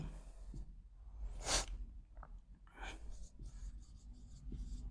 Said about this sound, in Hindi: तीसरा वर्ड लिख दिया मैंने